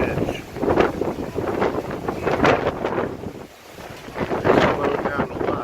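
Strong gusty wind from Hurricane Irma buffeting the microphone near the edge of the storm's eye, roaring in surges with a brief lull midway, loud and close.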